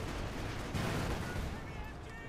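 Dense, continuous battle noise from Company of Heroes 2: rolling artillery fire and explosions blend into a loud, unbroken rumble with rockets and machine guns in the mix.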